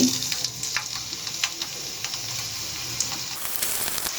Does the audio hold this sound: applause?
no